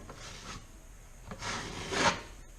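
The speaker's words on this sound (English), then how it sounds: "Now, I really, really, really recommend sanding." Dry sanding a drywall patch by hand, a soft abrasive rubbing and rasping in a few short strokes, the last two longer and louder, close by with no talk.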